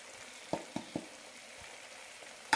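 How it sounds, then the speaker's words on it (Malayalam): Tomatoes and spice powders, Kashmiri and regular chili powder with coriander, sauté in a pan as a quiet sizzle broken by several short stirring scrapes and a louder clatter at the end. "നന്നായി വഴറ്റാം രണ്ട് മൂന്ന് മിനിറ്റ് നന്നായി വഴറ്റി കൊടുക്കാം"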